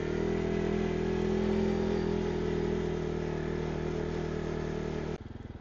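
A quad bike accelerates along a rail trail in early spring, its engine a loud, steady drone with rising revs held for about five seconds before dropping to a lower, pulsing idle-like throb at the end.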